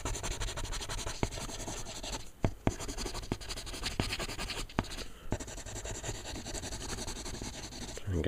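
Prismacolor colored pencil shading light brown over paper, a soft continuous scratchy rubbing with a few sharper strokes and brief pauses, close and fairly quiet.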